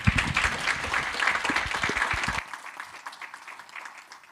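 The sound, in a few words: audience applause for panelists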